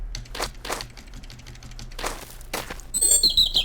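A short chirpy bird sound effect from a Bitsy game plays near the end, a few quick high tweets following softer clicky tapping sounds.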